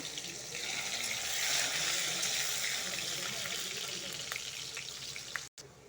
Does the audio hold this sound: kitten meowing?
no